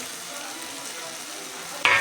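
Tomatoes for a chutney sizzle steadily in a hot pan, with a sudden sharp scrape of utensil against the pan near the end.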